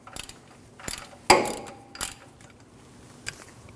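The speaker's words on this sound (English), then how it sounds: "You can remove it with the ratchet and the socket." Ratchet and socket turning out a 27 mm oil pressure switch on a 2012-2021 Nissan NV2500 5.6L V8, giving several quick, close, crisp clicking bursts with short pauses between them.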